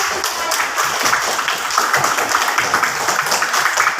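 A class of pupils in an Indonesian coding lesson claps together in a counted clapping routine, a dense, steady wash of many hands close by that fills the whole stretch without pauses.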